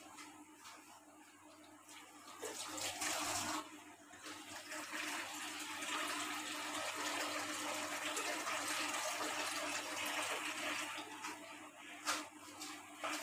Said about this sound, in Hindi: ये सारा पानी हमने ऐड करना है